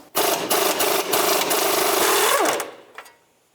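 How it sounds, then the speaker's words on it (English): A power tool with a 20mm socket spins the castle nut off an outer tie rod on a 2005-2009 Subaru Outback. It makes a loud, close, buzzing rattle in rapid pulses for about two and a half seconds, then winds down and stops. "I'm just going to put a socket on there and get that off."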